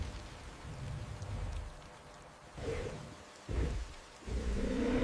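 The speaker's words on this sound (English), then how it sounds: "The roar of the heavy rainfall is now the only sound, a constant, powerful presence." Heavy rain pours steadily in a dense, constant roar, with low rumbling surges rising and falling, and no voices.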